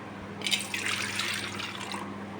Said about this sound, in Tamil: இப்போ அவளையும் தண்ணி ஊற்றி வச்சிடலாம்.